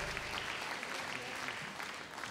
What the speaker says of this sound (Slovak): ešte jeden potlesk poprosím